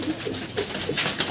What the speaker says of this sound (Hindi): उनके पास कबूतर लॉफ्ट है